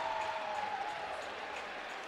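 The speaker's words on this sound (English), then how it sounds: "the Nebraska faithful clapping before he even stuck that" Nebraska fans clap steadily in an arena during a college gymnastics meet at Illinois, a dense, even patter of applause mixed with faint crowd noise, continuous throughout.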